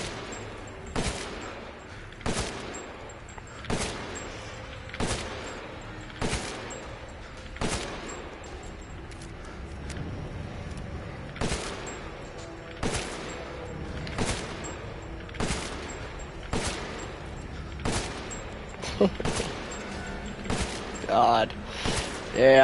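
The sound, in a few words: gunfire in the video game Resident Evil Village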